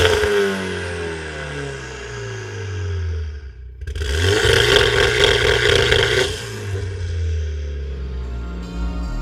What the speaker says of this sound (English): we're out in the Mercedes A45S and I've got to say that revving, it sounds aggressive